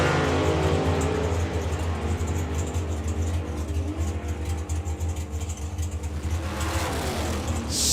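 Turbocharged doorslammer drag racing test car accelerating hard, a loud sustained engine roar with rising revs across eight seconds, close and dominant with no talk.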